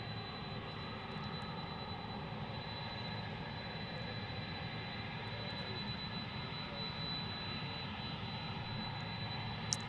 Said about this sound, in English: 777 taking off right now.